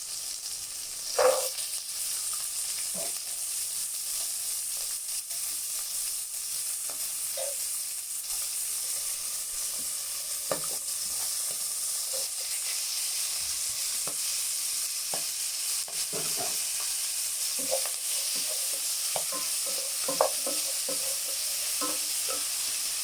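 Mixed vegetables sauté in a pan of salted, softened onions for bisibelabath sambar rice, a steady close sizzle running throughout with scattered scraping clicks of a spoon stirring, and no voices.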